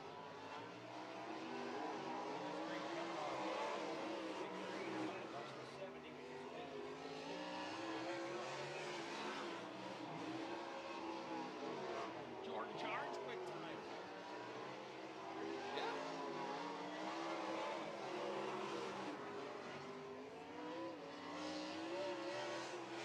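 Sprint cars roaring around the Hilltop Speedway dirt track during a heat race, a continuous wavering engine drone that rises and falls as cars lap, heard from a distance under a faint announcer's voice.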